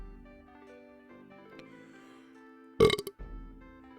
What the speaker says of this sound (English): thank you for the burp